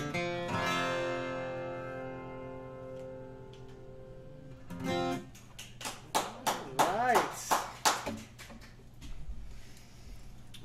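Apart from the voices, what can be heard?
tentative clapping from a few people in the room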